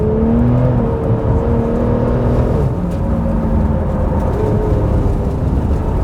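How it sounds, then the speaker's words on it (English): A Porsche sports car engine drones loudly and steadily on a high-speed stretch of an ice track, its pitch climbing and resetting as it pulls through the gears, with wind and road roar beneath. "Can you hear the engine? It sounds glorious."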